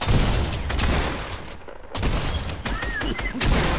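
Fortnite shotgun fire: loud, repeated booming shots close by in an uneven volley, with a brief lull in the middle before the firing picks up again.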